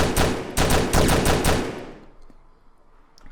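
Rapid automatic gunfire in the heist game Stick Em Up, several loud bursts in quick succession for about two seconds, then fading to a quiet tail with no talking.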